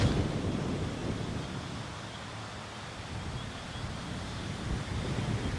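Steady wind blowing across an open golf course, a broad roaring rush buffeting the microphone throughout with no let-up and no voices.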